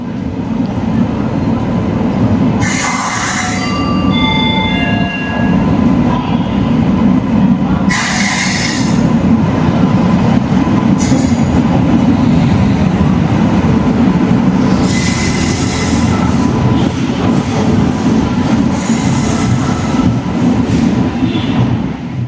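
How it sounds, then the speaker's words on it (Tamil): An express train rolls slowly into a platform at a station, heavy rumbling wheels with several high metallic squeals and screeches of brakes, loud and close, no talking. "வண்டி இப்போ தான் வந்திருக்கு."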